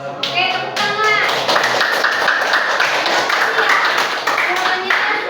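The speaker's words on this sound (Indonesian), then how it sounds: "tepuk tangan" A class claps after group presentations: a voice speaks briefly at the start, then brisk, dense clapping builds and continues steadily to the end.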